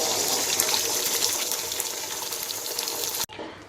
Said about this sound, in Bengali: ডিমটা ঢেলে দেবো।